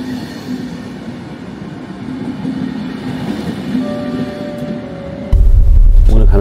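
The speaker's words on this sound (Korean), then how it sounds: "지역선을 타기 위해 기차역으로 나왔습니다" Regional train departing Copenhagen, Denmark: a steady rumbling interior ride with faint tonal whines, then a sudden louder low roar near the end as the train picks up speed or passes something close.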